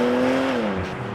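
A Porsche Macan GTS engine, sharing the RS5's powerplant, drones steadily while driving, its low tone holding then sliding slightly lower as it eases off, close and continuous with no talk.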